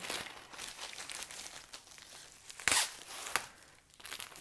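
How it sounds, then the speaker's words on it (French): Fabric packaging is torn open during an unboxing, giving soft crinkling and ripping close by, with a couple of sharper tearing bursts toward the end; the sound is fairly quiet overall. "On aime ça, les déchirer."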